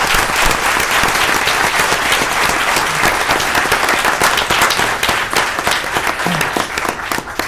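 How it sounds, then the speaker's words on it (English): Sustained audience applause at a city commission meeting honoring law enforcement officers, loud, dense clapping from many hands lasting several seconds with scattered sharper claps, no talking over it. "If you give these guys a round of applause."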